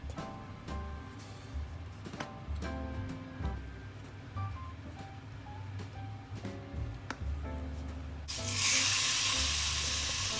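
Sesame oil heating in a pan, crackling and ticking with scattered pops over quiet background tones, then breaking into a louder, steady hiss of sizzling for the last couple of seconds.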